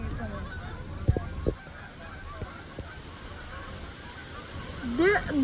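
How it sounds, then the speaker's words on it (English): Geese honk a few times while flying away, the calls loud at first and then sparse over a steady rainy background, with a voice rising briefly near the end. "look at all the birds evacuating"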